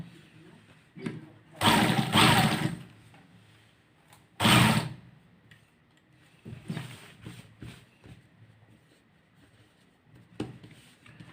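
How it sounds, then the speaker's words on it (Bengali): A sewing machine stitches the side seam of a Kallidar Punjabi garment, with two short, loud bursts of whirring motor and needle running, then quieter scattered clicks and handling noises. "এখন আমরা সাইড দিয়ে সেলাই করবো।"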